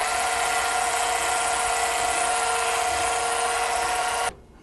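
An electric mixer beats melted semi-sweet dark chocolate into pound cake batter with a loud, steady whirring hum that runs unbroken for several seconds and then cuts off abruptly near the end.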